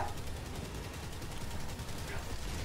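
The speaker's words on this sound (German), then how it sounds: "Überall Schüsse." Dense, continuous gunfire in the video game Helldivers 2, with rapid overlapping shots and bursts filling the whole stretch at steady loudness and no pause.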